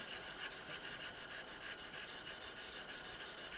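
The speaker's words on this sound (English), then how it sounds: "Basically, we're polishing that surface." The metal surface of a gun trigger is polished with quick, even rubbing strokes that make a faint, close, rhythmic rasp, each stroke repeating in a steady back-and-forth pattern.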